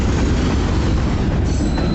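A freight grain train rolls past on the rails with a dense, loud rumble and faint metallic rattling, close by and unbroken for its whole length.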